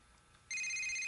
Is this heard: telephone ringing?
yes